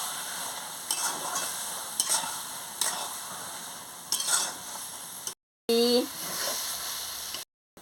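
Chochchori is stir-fried with salt in a pan, a close sizzle broken by rhythmic spatula scrapes about once a second, with short gaps of silence near the end.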